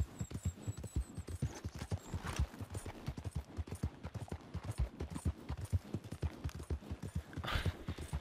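Horse hooves clip-clop at a steady trotting rhythm in Red Dead Redemption 2, close and continuous, with faint background noise and an occasional brief swell.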